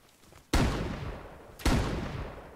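Two loud gunshots in the survival game Rust, spaced about a second apart. Each is a sharp, heavy crack that booms and decays slowly, with no talking over them.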